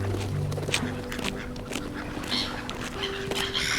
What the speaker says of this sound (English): Their calls are soft clucks and quick squeaks that echo over the water.